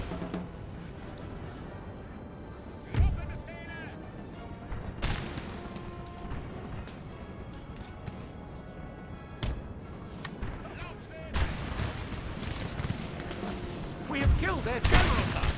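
Musket volleys and artillery booms from the Napoleonic battle video game Napoleon: Total War, scattered crackling shots and heavier thuds rising over a busy battlefield din at moderate distance, with someone talking over the gunfire.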